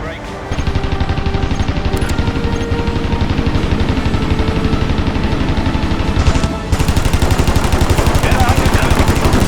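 Defensive machine gun fire from a bomber's gunner position in the Wings of Prey flight game: continuous rapid bursts rattle loudly over a steady engine drone, growing heavier and denser partway through.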